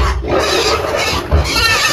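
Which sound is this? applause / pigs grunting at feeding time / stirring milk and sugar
pigs grunting at feeding time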